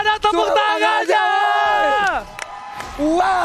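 A live esports crowd at the Mobile Legends MPL Season 6 final between RRQ Hoshi and Alter Ego roars and whoops, with a long rising-and-falling shout carried over the loud arena noise before it briefly dips and swells again.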